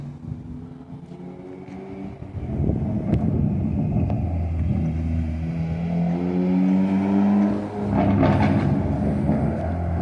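A car engine idles with a steady low hum, then revs up twice in rising, drawn-out swells, close and fairly loud, with no voices over it.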